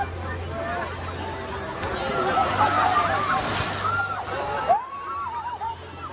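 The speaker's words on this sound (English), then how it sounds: "oh no, he's gonna splash!" An orca's splash sends water sloshing and spattering during a SeaWorld show in San Diego, with crowd babble and an announcer's voice running over the steady wash of water.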